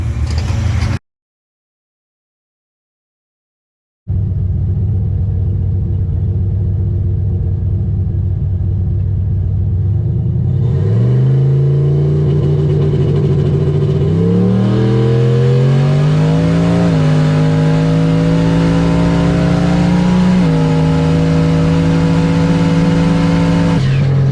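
A V8-swapped, rear-wheel-drive 2004 Chevy Impala drag car roars loudly and close by, rumbling steadily before climbing through several rising revs and gear changes, with no talking over it.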